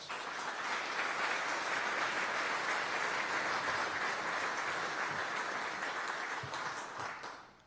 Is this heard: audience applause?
yes